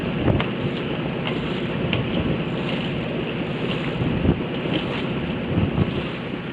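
A sailing boat under way at sea in very light westerly winds, with a steady rushing wash of water along the hull and wind buffeting the microphone, continuous and close with no talk.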